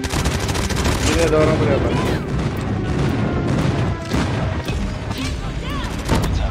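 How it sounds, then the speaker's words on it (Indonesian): Dense barrage of booming explosions and rapid gunfire from a Call of Duty Mobile airstrike, loud and continuous, with a player speaking briefly over the din. "Friendly airstrike incoming."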